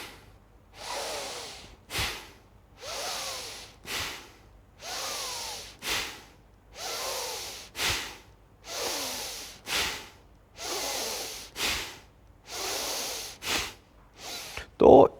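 Rhythmic pranayama breathing through both nostrils, with repeated forceful inhale-exhale cycles roughly every two seconds, close and loud, each breath a rushing airy hiss.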